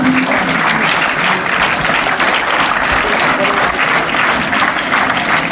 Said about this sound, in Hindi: देखो माहौल तो आपकी तालियों ने बना दिया, या नहीं?